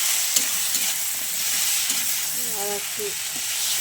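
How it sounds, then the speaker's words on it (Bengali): Puti fish fried with onion and tomato sizzles steadily in the pan while being stirred, a close hiss of hot oil with scraping stirs and a brief spoken remark. "দেখো বন্ধুরা, ভাজা হয়ে গেছে, তাই আমি মাছ ভাজাগুলো দিয়ে দিলাম"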